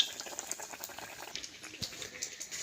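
Semolina pitha made with flour fry and puff up in hot oil, giving a soft, irregular bubbling crackle that rises and falls in quiet bursts.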